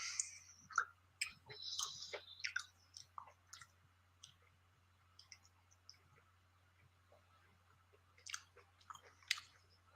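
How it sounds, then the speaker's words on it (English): An animal chews on raw meat close by, giving irregular wet crunches and clicking bites in scattered bursts over a quiet background hum. "that's raw meat he's chewing on."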